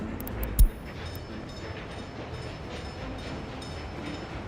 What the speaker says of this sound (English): my train went over here to grab more coal